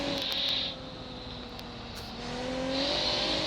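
A car in BeamNG.drive rolls along slowly, its engine giving a low steady hum that eases off in the middle and rises again, fairly quiet with no talk.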